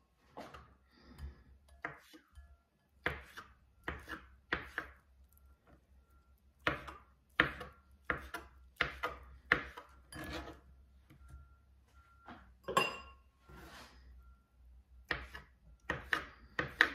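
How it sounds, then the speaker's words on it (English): A knife slices crab sticks into long strips on a board, giving sharp, close chopping taps in uneven bursts separated by short silences, with no talking. "I took only half a package of crab sticks and I also cut them into pieces, into long straw."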